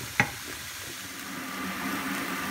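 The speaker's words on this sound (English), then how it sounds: "I'm just frying off the mushrooms and the onions." Mushrooms and onions fry in a pan for a beef stroganoff, giving a steady soft sizzle with a single sharp knock of a utensil near the start.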